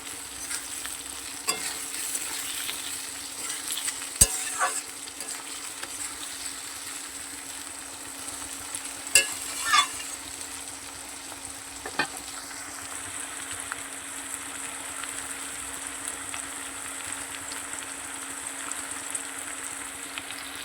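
Onions frying until reddish in a pan, a steady low sizzle running throughout with occasional stirring scrapes and clinks, close and moderately quiet, no voices.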